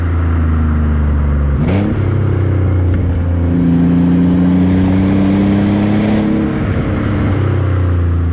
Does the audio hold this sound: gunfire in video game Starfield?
no